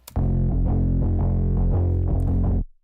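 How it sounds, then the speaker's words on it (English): A bass line run through a Blood Overdrive distortion preset, thick and crunchy, with sustained gritty notes and rhythmic pulses for about two and a half seconds before stopping abruptly. "this preset, when applied to the bass, doesn't just make it louder, kind of adds a bit of crunch"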